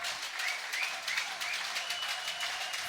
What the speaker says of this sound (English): my friend Hiroyuki Takagishi is dancing and clapping his hand on the bench of Japan